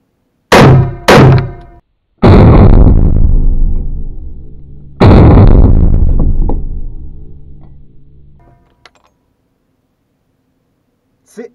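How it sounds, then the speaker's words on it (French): A Hakim semi-automatic rifle in 8x57 IS fires a quick string of shots, two sharp cracks close together followed by two louder blasts, each trailing a long echoing decay before a faint click. "On va essayer un petit tir rapide, tiens."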